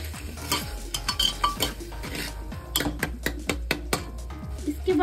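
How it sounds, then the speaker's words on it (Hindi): A spoon clatters repeatedly against a pan while a vegetable and tomato mixture with red chilli powder is stirred for sandwich idli, with rapid clinking strokes over a faint sizzle, close and without talking. "फिर से चला देंगे।"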